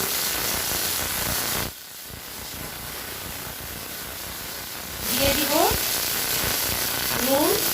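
Chopped potatoes, green chilies and garlic sizzle in a hot pan, a steady hiss and crackle that briefly drops out, then resumes while someone speaks over the frying.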